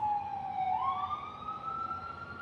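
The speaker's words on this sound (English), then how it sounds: "You hear them sirens." A wailing siren sweeps up and down in pitch, steady and fairly loud, with a low rumble of traffic underneath and no voices.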